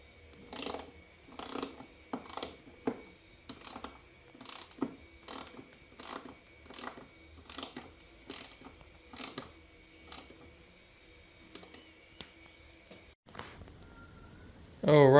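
A ratchet tightens the side brace bolts on an Alfa Romeo 916 GTV, giving about a dozen evenly spaced bursts of close, crisp clicking, then a brief louder rattle at the end.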